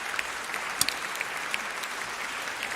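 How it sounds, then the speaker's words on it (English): A debate audience applauds after a closing speech in a schools debate round, giving a steady, moderately loud wash of clapping with a few sharper individual claps standing out. "he deserves a warm round of applause for his closure"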